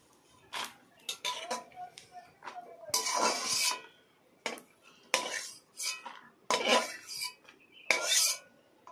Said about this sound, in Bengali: এবার আমি একটা প্লেটের মধ্যে তুলে নিচ্ছি